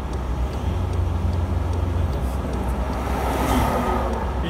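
A car engine with light throttle applied while overheating, a low steady rumble rising slightly as revs increase, heard from nearby with a broad hiss of fan or air noise.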